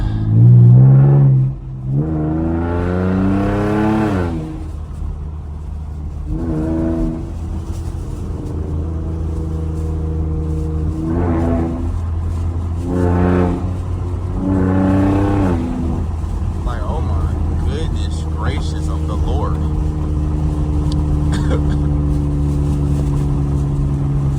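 Loud Camaro V6 on a 2AM city drive, engine revs rising and falling through repeated downshifts with sweeping pitch changes, a steady rumbling drone underneath, close and prominent throughout.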